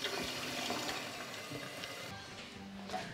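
Tap water pours steadily into a pot of lamb ribs in a home kitchen, a continuous close splashing rush that eases slightly toward the end. No one speaks.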